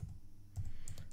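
Computer keyboard typing during a web setup tutorial, a short burst of quiet, close clicking keystrokes with a brief pause before a quicker run of taps.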